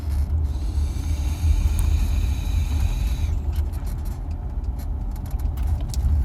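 Steady low engine rumble and road noise from inside a moving car, continuous and fairly loud, with faint rattles and clicks on top and no talking.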